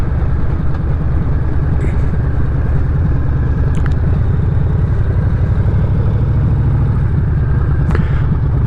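A 2023 Harley-Davidson Breakout motorcycle rumbles steadily while being ridden, its low engine note continuous and loud throughout, with a few faint clicks above it and no talking.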